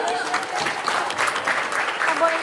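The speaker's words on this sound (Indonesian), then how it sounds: "Berikan tepuk tangan yang meriah." An audience at an Indonesian Independence Day ceremony at an Islamic school applauds warmly, a dense, steady wash of many clapping hands throughout.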